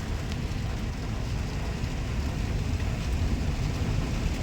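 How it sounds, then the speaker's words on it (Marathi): Heavy rain falls outdoors near a river covered in water hyacinth, a constant dense hiss with no break and no voices. "जोरात आला पाऊस"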